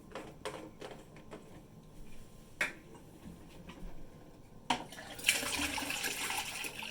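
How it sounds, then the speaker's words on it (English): Water sloshing inside a Thetford 365 Porta Potti portable toilet tank as it is shaken during rinsing, with scattered knocks and clunks early, then a louder, sustained rushing slosh in the final seconds. "Give everything a good shake."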